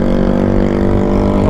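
A Yamaha Mio Fazzio scooter with an 8-horsepower engine on a 95-kilogram bike runs loud and close, giving a steady, buzzing engine drone with no pauses and no talk.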